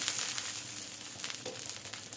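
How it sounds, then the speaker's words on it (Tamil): Oil crackles and sizzles on a hot dosa griddle at medium flame, a steady close frying hiss with small pops throughout. "கொஞ்சமாக எண்ணெய் சேர்த்துக்கலாம்"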